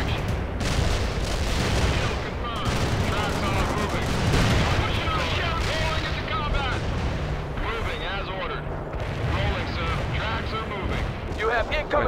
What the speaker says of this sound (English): my men spotted some Soviet mortars setting up near your position